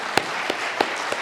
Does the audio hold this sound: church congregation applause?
yes